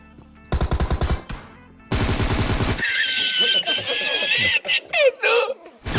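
Tommy gun fire in the Free Fire video game: two rapid, loud automatic bursts, followed by snicker-like chuckling and bright, warbling game tones.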